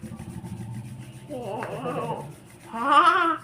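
Two hands rub together quickly, a close, steady dry swishing that swells into a louder burst of friction toward the end.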